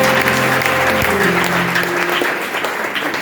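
An audience at a gathering of gospel singers in Nairobi claps loudly and continuously, a dense close applause that holds for a few seconds and tapers slightly at the end, with no speech over it.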